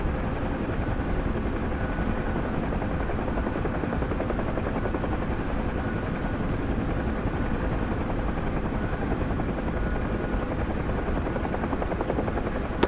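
A helicopter drones steadily in flight, a loud, unbroken rotor and engine roar with no pauses that fills the whole stretch close up, like from inside the cabin.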